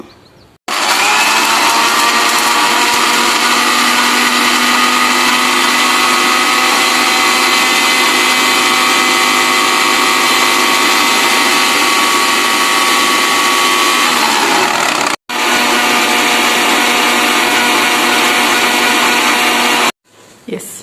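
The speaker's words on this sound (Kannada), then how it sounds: "ಇದನ್ನು ಮಿಕ್ಸಿ ಮಾಡ್ಕೋಬೇಕು" A mixer grinder blends amla (gooseberry) with salt and water, a loud, steady high-pitched motor whine running for about fifteen seconds, cutting out briefly, then restarting for a few more seconds before stopping.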